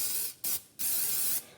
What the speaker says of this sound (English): I'm just going to spray a little bit of Pam